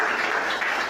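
Church congregation clapping and applauding together, a dense, even wash of many hands filling the space for a brief moment.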